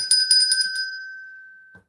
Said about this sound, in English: we can have a bell for that because we're almost at 95